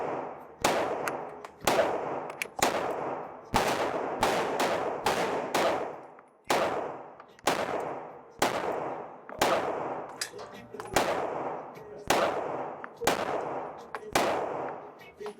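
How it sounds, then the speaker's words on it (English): Rapid, evenly paced shots from a Glock 19 pistol fired at a target seven yards away, each crack loud and sharp with a short ringing tail. Roughly seventeen shots come in quick succession across the stretch, with no talking. "Now I'm gonna shoot the top right target again at 7 yards."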